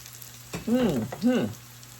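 Salmon croquettes fry in a pan with a soft background sizzle, while a short humming, voice-like sound rises twice over it near the middle.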